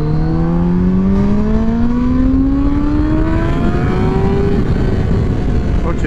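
A Kawasaki Ninja ZX10-R sportbike engine, a 200 hp machine, climbs steadily in pitch as it revs up under acceleration, a loud, rising whine heard up close with strong wind roar throughout.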